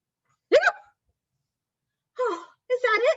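A penguin hiccups in three short, squeaky, voice-like bursts: one near the start, then a pair close together after a pause, with nothing but silence between them.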